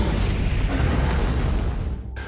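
A sustained explosion roars through a Warhammer 40,000: Space Marine 2 game trailer, a dense low rumble of blasts and fire holding loud for about two seconds before cutting off abruptly.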